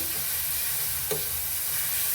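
Softened tomato pieces frying in oil in a pan, a continuous low sizzle with a single faint scrape of a spoon partway through, with no talking.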